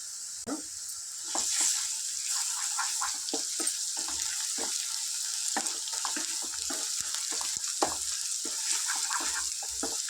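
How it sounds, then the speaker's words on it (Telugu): Onions, green chillies and ginger garlic paste fry quietly in a pan, a faint hiss with frequent light taps and scrapes of a stirring spoon, no voices heard. "అల్లం వెల్లుల్లి పేస్ట్ పచ్చివాసన పోయే వరకు ఫ్రై చేసుకోవాలి"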